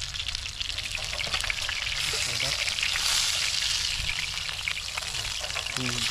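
Food fries in a hot pan with a loud, steady, dense sizzling hiss that carries on unbroken throughout, with a few soft clinks underneath.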